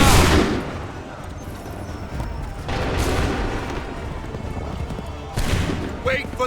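Musket volleys in Assassin's Creed 3, the broadband blasts landing at the start, around three seconds and near five and a half seconds, each decaying into rumble, with shouted battle commands and game ambience underneath.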